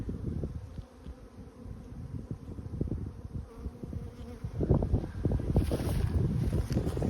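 Honeybees buzzing as they fly low and land on snow outside a hive, a close, continuous droning hum with buzzing that swells louder in the final seconds, over light wind.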